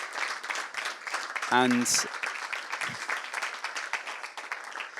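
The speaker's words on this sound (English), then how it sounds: "I'd like to say sort of round of applause to all the contestants" A crowd claps steadily throughout, with a brief voice and a short beeping tone cutting through partway.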